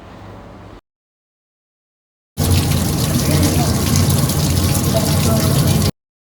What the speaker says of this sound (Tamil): ஸோ அந்த தோல் எல்லாத்தையும் மேலே வந்து எடுத்துகிட்டு நல்லா வாஷ் பண்ணி எடுத்துக்கலாம்.